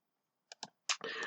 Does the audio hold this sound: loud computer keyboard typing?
yes